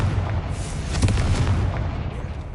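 Confringo blasting spell in Hogwarts Legacy, a rumbling explosive boom with deep low-end roll and crackling debris, sustained and fairly loud for a couple of seconds.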